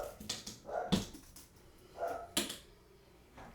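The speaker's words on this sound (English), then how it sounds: "So you probably hear my dogs upstairs." Dogs bark from upstairs in a home music studio, a few muffled, distant barks and yips spaced across a few seconds.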